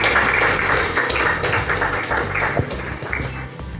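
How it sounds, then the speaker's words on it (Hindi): An audience at a Hyundai showroom launch in Multan claps steadily to welcome Haji Akram, a dense, continuous patter of many hands that carries on without a break. "भरपूर तालियों में मैं उसका इस्तकबाल करूंगा"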